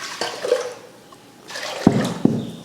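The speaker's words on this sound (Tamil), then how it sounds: "சாப்பாடுக்கு தண்ணி ஊற்றிடலாம்." Water poured into a cooking pot of soaked rice before pressure cooking, heard as a soft splashing pour with a couple of sharp drips and splashes near the end, close by and fairly loud.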